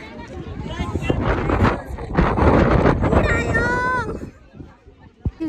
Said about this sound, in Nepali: यहाँ लास्टै हावा चल्दैछ कसरी खिच्ने होला यार फोटो